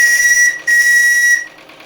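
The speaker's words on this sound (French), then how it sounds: "un petit coup de sifflet bien sûr" A shrill, high steam whistle on a live-steam model boat sounds twice in close succession, the first blast short and the second longer, with a breathy hiss of steam around it, tested in a bathtub.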